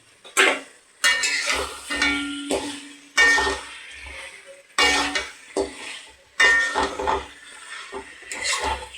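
Pieces of salt-marinated chicken go into hot spiced oil in a pan: a quiet sizzle under repeated loud clatters of a spoon stirring and knocking the pan at a steady, uneven pace.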